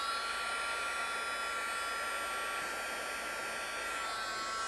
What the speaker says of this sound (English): And then I'm going to heat emboss that.